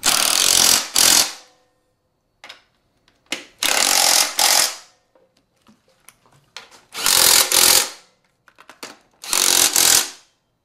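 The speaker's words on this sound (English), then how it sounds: "push down on the rear fender and tighten them." A power tool tightens subframe bolts on a Honda motorcycle in four loud, close bursts of rapid rattling impacts, separated by quieter stretches of small clicks and handling noises.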